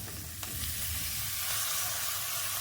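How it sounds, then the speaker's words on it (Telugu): Thinly sliced capsicum pieces of mixed kinds sizzle steadily in a hot pan with spice powder as they are stirred, a close, even frying hiss with a faint clink of the spoon and no talk. "ఇప్పుడు ఇందులో సన్నగా కట్ చేసి పెట్టుకున్న అన్ని రకాల క్యాప్సికమ్ ముక్కలు వేసుకుందాం"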